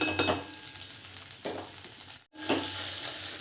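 Pavta beans frying in hot oil make a loud, close sizzle, broken by a few bursts of stirring and a brief cut-out before the hiss resumes.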